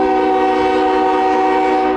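CSX M200 eastbound freight train at a grade crossing in Fostoria, Ohio, sounding a loud, steady multi-tone horn chord that holds nearly unbroken over the rumble of the passing train, close by.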